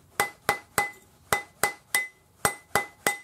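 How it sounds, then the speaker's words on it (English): A rawhide hammer strikes a metal ring on a tapered steel mandrel nine times in a steady rhythm, each close, sharp blow ringing with a bright metallic tone that quickly decays. "use your rawhide hammer, because the rawhide won't damage the surface of the metal"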